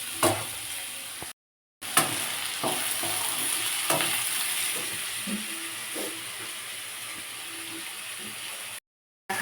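Vegetables for Bengali-style fried rice fry and get stirred in a pan with sugar mixed in, giving a steady close sizzle with light scraping strokes throughout, briefly cut off by two short silent gaps.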